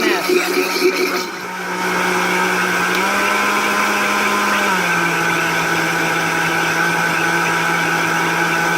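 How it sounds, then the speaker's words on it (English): A blender whirs loudly and steadily at high speed, its motor pitch stepping up briefly before settling, close by after a short rattle at the start. "Turn your blender up as high as you can without making a big mess."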